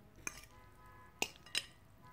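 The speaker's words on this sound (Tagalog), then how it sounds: "Haluin lang natin." Super spicy stir-fried pancit canton noodles being stirred in a pan, heard as three sharp utensil clinks against the cookware, the first alone and the last two in quick succession, over quiet near-silence.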